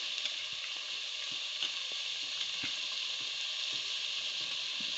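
Chopped tomatoes frying in a pan of togarikaalu (field bean) pulao, a steady bright sizzle with faint stirring taps, close and continuous.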